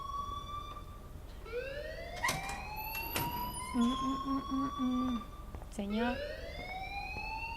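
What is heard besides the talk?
alarm ringing in the video game Life is Strange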